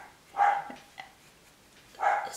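A dog barks twice indoors, two sharp mid-pitched barks separated by a short pause, moderately loud and alone apart from a faint thump between them.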